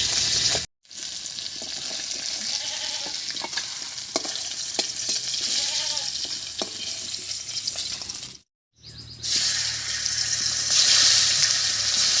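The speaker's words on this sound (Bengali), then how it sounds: "মাছগুলো হালকা করে ভেজে নিয়েছি নামিয়ে নিচ্ছি" Khoira fish frying in oil in a pan, a continuous close sizzle with light stirring scrapes, cut by two brief silences, the second followed by a louder, harsher spell of frying.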